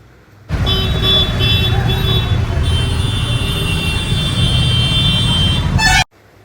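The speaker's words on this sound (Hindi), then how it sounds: "बहुत ज़्यादा हॉर्न के आवाज आबैत रहे" Car horns blare in heavy city traffic in Darbhanga, India. One long, loud, steady honk is layered over a rumbling road, then cuts off abruptly.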